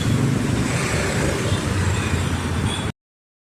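Road traffic jam on a street in Odisha, India, with a dense, continuous wash of idling car, bus and motorcycle engines and general roadway noise, loud and close, with no talking, cutting off abruptly near the end.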